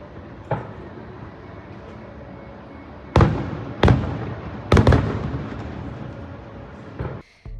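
Fireworks over Magic Kingdom at Walt Disney World, heard from a resort theme park view room: a faint early pop, then three loud booming bursts with rumbling tails, and one more near the end.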